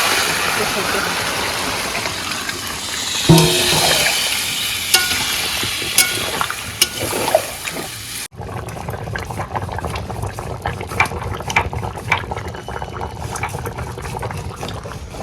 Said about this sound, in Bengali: মাছের সাথে দিয়ে দিলাম জলটাও ভালো দেবেন